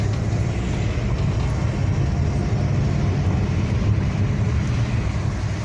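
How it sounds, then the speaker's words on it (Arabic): Heavy road traffic at night near Jeddah airport makes a dense, continuous roar of passing vehicles, steady and fairly loud throughout, with no talk. "ترافيك زياده ده"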